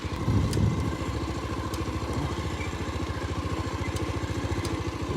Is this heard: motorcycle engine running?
yes